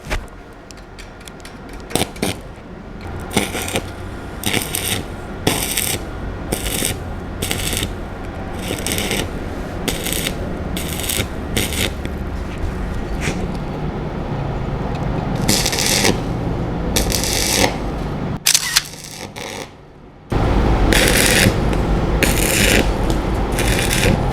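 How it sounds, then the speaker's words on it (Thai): Arc welding test next to a worker wearing a fan-cooled work jacket, giving a loud, close crackling sizzle in repeated bursts broken by short pauses, with no talking. "ดี๋ยวลองเทสเชื่อมมันให้ดูเลยนะครับ"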